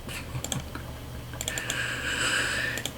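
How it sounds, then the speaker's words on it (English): Rapid computer keyboard typing and mouse clicks, close and fairly loud, in irregular bursts, with a brief whiny tone in the middle. "You can hear me clicking."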